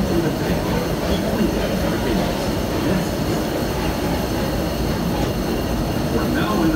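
The Disneyland Railroad train rumbles steadily along its track, a dense continuous clatter of wheels on rails with faint voices in the background throughout.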